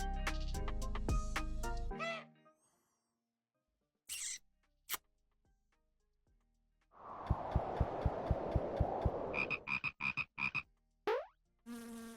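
Game sounds from the surreal idle strategy game Tingus Goose, where crowned frogs appear: bursts of tones and chirps broken by silences, then a buzzing, croaking stretch with rhythmic pulses, and no speech.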